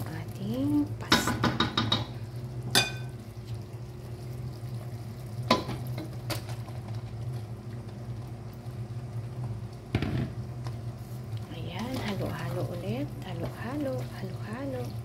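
Pasta goes into sauce in a pan at home, with scattered metallic clinks of utensil against cookware, scraping and stirring over a low steady simmer, plus some faint background voice.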